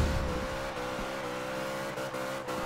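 A Dodge Charger in a Fast and Furious video game roars under nitrous boost, its engine holding a loud, sustained high-revving drone with brief gear-shift dips, alone and close.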